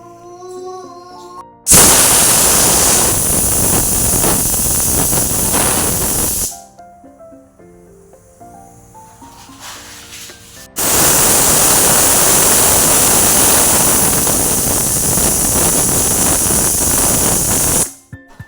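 A pressure cooker on the stove vents steam as it cooks a pumpkin and broad bean curry, giving two long, loud, hissing bursts of several seconds each, separated by a quieter stretch.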